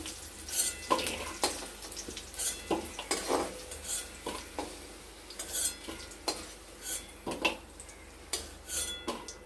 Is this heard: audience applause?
no